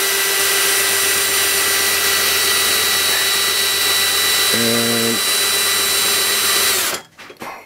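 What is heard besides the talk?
power drill winding a machine vise along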